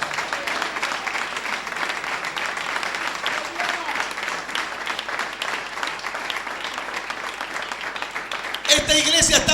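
A church congregation gives a long, steady round of applause, many hands clapping at an even level throughout, with a louder burst of sound cutting in at the very end.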